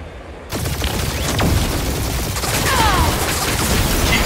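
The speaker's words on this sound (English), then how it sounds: "Keep up the barrage." A dense barrage of gunfire and booming impacts in the video game Guardians of the Galaxy, loud and continuous after a sudden onset, layered with explosions and whooshing effects.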